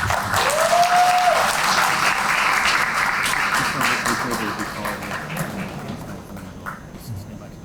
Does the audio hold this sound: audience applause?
yes